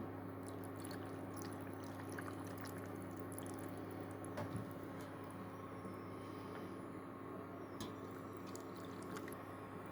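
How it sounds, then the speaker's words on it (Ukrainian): Boiling marinade poured into a jar over eggplants and peppers, a faint, steady liquid trickle with small splashes and clicks over a constant low hum, no talking. "Заливаю киплячим маринадом."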